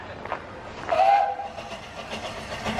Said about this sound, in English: Here comes Whipsnade's narrow gauge steam locomotive, slowly making its way towards the platform.